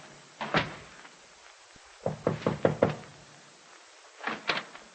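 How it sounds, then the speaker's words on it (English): Knocking on a door in an old-time radio drama: a double knock, then a quick run of about five raps, then another pair, crisp and close with quiet gaps between. "that sounds like a knock on the door"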